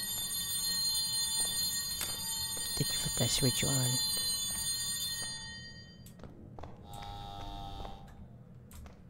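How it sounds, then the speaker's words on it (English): Phone in the Bokkie game rings with a bright, repeated bell tone that stops partway through, while a person talks over it. "there's a phone that's ringing"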